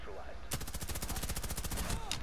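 Rapid automatic gunfire in a video game, a fast continuous burst of close, loud shots lasting over a second, with a voice heard under and around the shooting.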